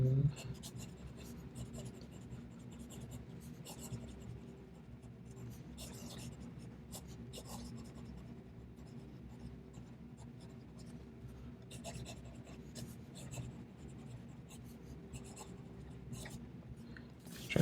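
A Pelikan M1000 fountain pen is dragged quickly across paper, making a soft, scratchy rasp of rapid strokes with short pauses between bursts. The sound is faint and close, with low background hum.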